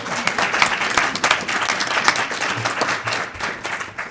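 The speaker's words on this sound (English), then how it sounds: "And then let's applaud." Audience applause at a board of trustees meeting after an inspiration award is presented, a steady dense clapping from a crowd filling the room, sustained and fairly loud throughout.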